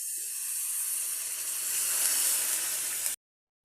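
Water hits a hot pan of adobo liver in a loud, steady burst of steamy hiss and sizzle lasting about three seconds, then cuts off abruptly to silence.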